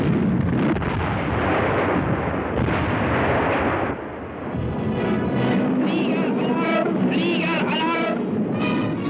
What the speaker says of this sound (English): 20mm and 88mm flak guns provide a heavy barrage